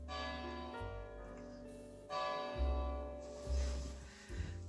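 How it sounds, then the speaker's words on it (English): Bells ring with long, overlapping tones, fairly distant and soft, several strikes swelling and fading with no speech. "Ooh, church bells."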